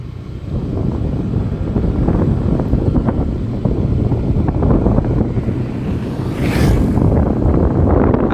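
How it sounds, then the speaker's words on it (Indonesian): Strong wind buffets the microphone on a hilltop above rice fields, a steady loud roar and rumble that gusts continuously for the whole stretch with no voices. "Anginnya cukup lumayan kencang"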